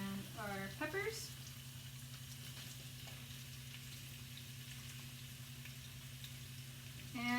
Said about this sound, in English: I'm going to add our protein, so my shrimp, and our peppers